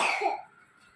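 A single short, close cough from a young girl who is unwell, heard right at the start and fading quickly into quiet.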